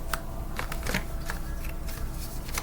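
Tarot cards being shuffled by hand: a steady run of close, papery riffling with sharp flicks repeating throughout.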